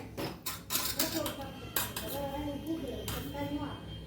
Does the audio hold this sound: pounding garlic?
yes